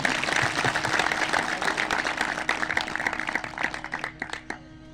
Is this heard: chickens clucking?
no